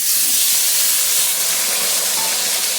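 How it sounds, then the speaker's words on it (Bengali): Boiled potatoes fry in hot mustard oil over raised gas heat, making a loud, continuous close-up sizzle and hiss with no voices. "তেলটার মধ্যে দিয়ে দিয়েছি আলুটা, যেহেতু আলু সিদ্ধ করা, তার জন্য গ্যাসের হিটটাকে একটু বাড়িয়ে দিলাম"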